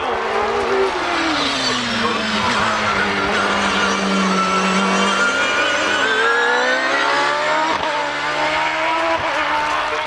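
A race car climbs the Harewood hillclimb course, its engine note loud and steady, rising and falling through gear changes in one continuous sustained roar.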